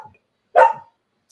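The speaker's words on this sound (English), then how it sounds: "excuse my dog to listeners, she's in the cage and she's being loud." A pet dog in a cage lets out a single loud, sharp bark up close, short and abrupt, with quiet before and after.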